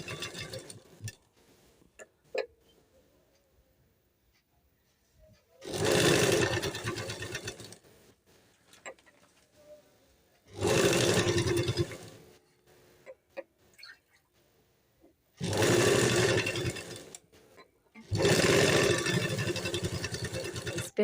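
A sewing machine stitches the lining of a kurti in four loud, close runs of rapid whirring, each lasting a couple of seconds, with faint handling noises in the quiet gaps.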